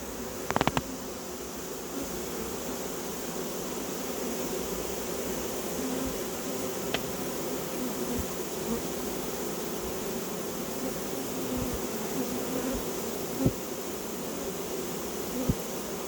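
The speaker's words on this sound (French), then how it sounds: "Les abeilles rentrent au bercail." Honeybees at the Crosne apiary stream back into their hive, a steady, close, unbroken buzzing drone with a few faint knocks and no talking.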